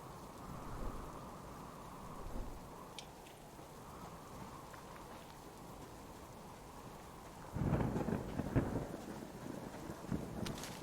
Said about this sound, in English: Especially in a thunderstorm.